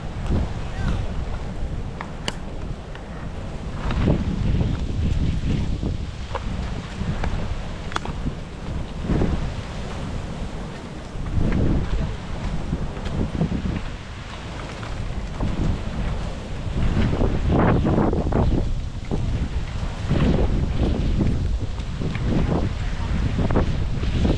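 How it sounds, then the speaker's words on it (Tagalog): Large ocean waves crash on a beach during a typhoon, a deep, rolling roar under strong gusting wind that swells in repeated surges and stays loud throughout. "dahil malalaki ang alon"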